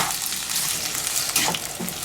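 Steady, crackling sizzle of onion frying in a hot pan, loud and continuous with a few scraping stirs.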